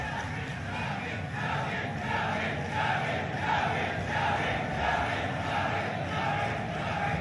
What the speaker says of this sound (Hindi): तालियों से आप लोग शाहजहांपुर की धरती पर माननीय मुख्यमंत्री जी का स्वागत कीजिए।